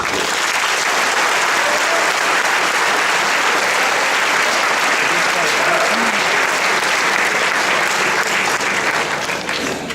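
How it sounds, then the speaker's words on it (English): Sustained audience applause at a boys' Shakespeare competition final awards ceremony, loud dense clapping that fills the whole stretch without a break. "let's have a round of applause"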